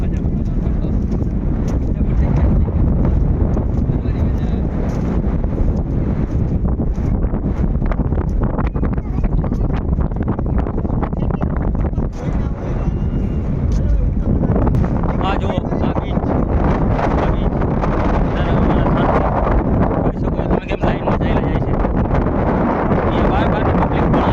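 Strong wind buffets the microphone in continuous rough gusts at Balachadi beach, with people talking partly buried beneath the roar.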